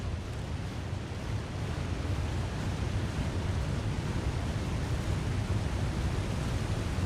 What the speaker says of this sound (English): Yeah, I think there's just a waterfall underneath us.